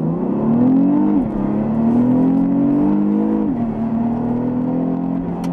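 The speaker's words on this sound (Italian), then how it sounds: "questo Cayenne GTS accelera da 0 a 100 in 5 secondi e 1" Porsche Cayenne GTS accelerating hard from a standstill, engine droning loud and close inside the cabin, pitch climbing then dropping at gear changes and rising again.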